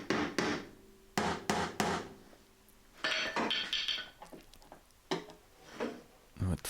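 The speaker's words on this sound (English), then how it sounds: "A few little taps to break the rust's grip on these screws." Light hammer taps on rusted screws on a Daihatsu Charade car body being prepared for paint, a series of sharp, close metallic knocks in short bursts with pauses between.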